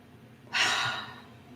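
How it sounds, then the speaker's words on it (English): A single deep breath, drawn in and let out slowly as a soft, breathy sigh, close and quiet against a still background. "just take a deep breath"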